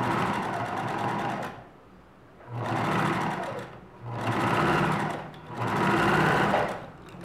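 A sewing machine stitches bias binding in three long bursts separated by short pauses for backstitching, a loud, close, steady motor whir with a rapid needle rhythm.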